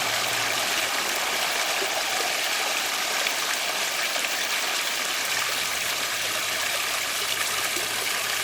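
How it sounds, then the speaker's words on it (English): A garden railroad waterfall fed by a pond pump, steady rushing water pouring continuously at close range, loud and unbroken with no voices. "here's the waterfall that Dave's wife Barb wanted to have."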